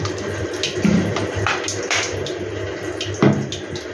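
Water is poured into a pot of rohu fish curry with poppy seed paste in a home kitchen. It makes a continuous splashing gush with a few louder bursts, close by, and there is no talk.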